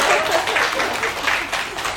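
An audience at a talk applauds briefly, a short burst of dense, loud clapping with some crowd noise mixed in.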